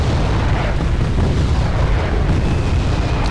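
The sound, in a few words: mortars firing in the video game Wargame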